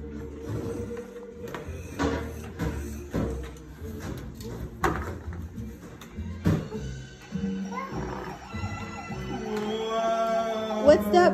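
A toy ambulance siren wails in a rising and falling electronic tone, with a child's chatter and clatter around it, the pitch sweeping steadily toward the end.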